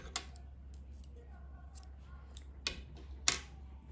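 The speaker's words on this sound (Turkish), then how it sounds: "İplik kesiyorum." A few sharp, isolated snips of scissors cutting knitting yarn, quiet and close, spaced out over a low steady hum.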